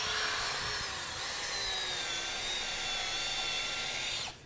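A 16V cordless drill bores into wood with a continuous high whine, steady and close for about four seconds before the motor cuts off abruptly.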